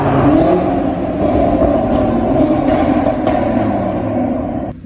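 A tuned Audi TT RS with a five-cylinder engine of over 600 hp revs hard and close, a loud raspy snarl climbing through several quick rising pulls before cutting off abruptly at the end.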